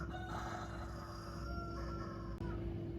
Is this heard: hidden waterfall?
no